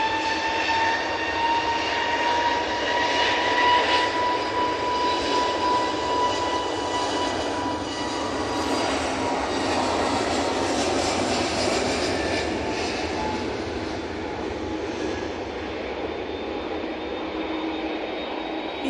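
An EasyJet airliner takes off from Manchester Airport bound for Palma de Mallorca, its steady, loud jet engine roar holding throughout with a broadband rush and faint tonal whine, and no talk over it.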